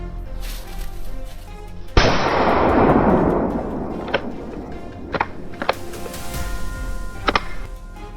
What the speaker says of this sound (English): The echo of gunfire shook the area, scattering the herd in all directions.